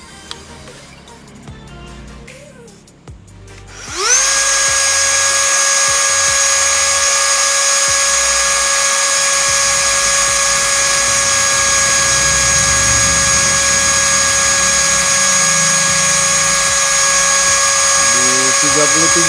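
A Bosch GRO 12V-35 mini rotary tool spins up to high RPM, rising from handling noises into a loud, steady, piercing whine that holds constant for the rest of the clip.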